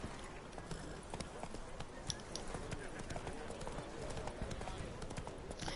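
Roach, a horse in The Witcher 3, clip-clops steadily with quick, regular hoofbeats under dense game ambience, continuing without pause.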